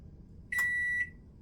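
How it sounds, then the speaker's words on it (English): One clear electronic microwave oven beep, with the microwave running on an AllPowers R1500 power station, rings out for about half a second, then stops, leaving a faint low hum. "Waiting on the beep on that."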